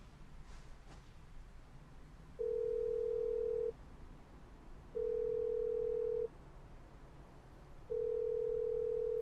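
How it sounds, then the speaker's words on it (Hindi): A phone call goes unanswered, heard as a steady repeating ringback tone in three evenly spaced long beeps over a quiet, faintly noisy line, with no talking. "फोन नहीं उठाया, फिर से करती हूँ।"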